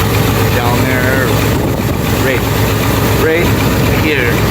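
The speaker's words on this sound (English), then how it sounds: "got an exhaust leak on the manifolds" A Mercury Marauder idles with a leaking exhaust manifold, giving a steady loud engine rumble close by while a person talks over it.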